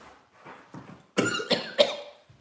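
A person mimics a short man's cough with a few harsh, throaty bursts, three loud ones close together near the end after softer breathy sounds.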